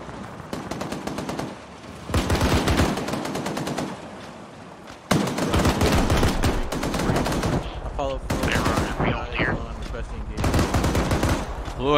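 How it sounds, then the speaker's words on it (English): Machine gun fire in combat during a simulated Afghan raid, loud sustained automatic bursts separated by short pauses, with rapid rattling shots and some distant voices mixed in. "We're taking fire from our northwest."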